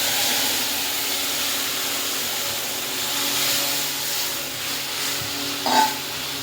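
Water hits hot oil spiced with nigella seeds, dried chili powder and turmeric and sizzles, a loud, steady, close hiss that runs throughout with a brief flare near the end, for a thin hilsa fish curry with taro, potato and eggplant.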